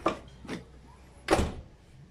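A repaired, realigned door on a Suzuki Cultus car shuts with three separate thuds: two lighter knocks close together, then a louder, fuller closing thump after a short pause, heard close up without speech.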